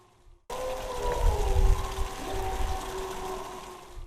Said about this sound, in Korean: 칠흑같이 어두운 밤, 추적추적 내리는 빗소리와 함께 귀신 소리 같은 소음이 들립니다.